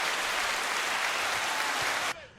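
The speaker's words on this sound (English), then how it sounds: "Give a round of applause for him." A round of applause: dense, steady clapping at even loudness for about two seconds, then it cuts off abruptly into near silence.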